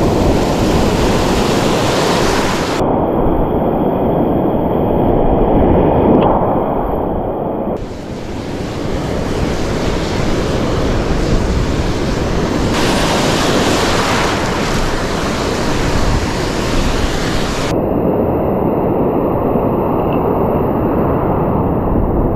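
Stormy ocean surf pounds the shore at La Union during a typhoon, a loud, continuous roar of breaking waves heavily mixed with wind buffeting the microphone, with no voices.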